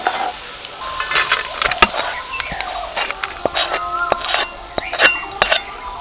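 Spoon scraping and stirring gram flour (besan) in a hot pan while making laddu, with a light sizzle and occasional sharp clinks of utensil against the pan, close and steady without talk.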